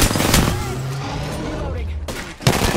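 Gunfire in the video game Apex Legends: two loud bursts of rapid automatic shots, one at the start and another near the end, with a quieter stretch of game sound between.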